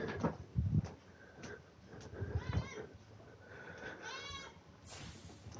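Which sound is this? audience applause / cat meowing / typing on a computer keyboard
cat meowing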